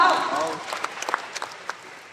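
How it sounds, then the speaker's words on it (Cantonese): An audience at a leadership training seminar in Kuala Lumpur gives a short burst of scattered hand claps that starts dense and thins into a few isolated claps before fading out. "俾啲掌聲呢12位好唔好？"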